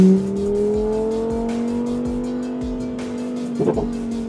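A Lamborghini Huracan Sterrato engine holds a steady, rising drone in sports mode as the tail slides out, with a brief tire squeal near the end; no talking.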